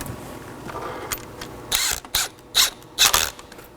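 A ratchet clicks in short bursts while snugging a 10mm bolt on the ignition coil of a 2013-2019 Nissan Sentra 1.8L L4, four quick loud ratcheting strokes close up over a low background hum.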